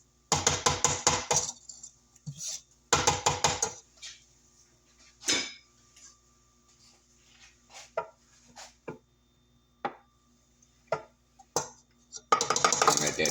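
Pina colada pound cake batter with pineapple, coconut and flour is mixed in a bowl. Dense rattling bursts at the start and end frame quieter, scattered taps and clinks in between.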